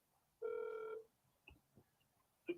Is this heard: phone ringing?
yes